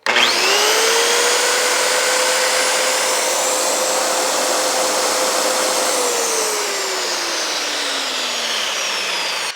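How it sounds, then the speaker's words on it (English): A DeWalt circular saw powered by an EcoFlow Delta power station spins up abruptly, whining loud and steady for about six seconds before slowly winding down. "And now here's a skill saw."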